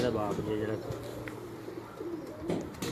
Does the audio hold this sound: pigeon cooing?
yes